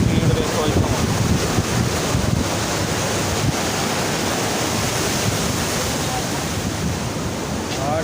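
Fast-flowing water rushes loudly and continuously through a canal, a dense unbroken roar with wind buffeting the microphone.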